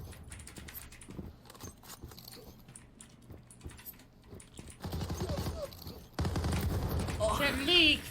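Gunfire in the Zula online shooter game, a run of sharp shots and bursts that gets louder and denser toward the end, with game noise throughout.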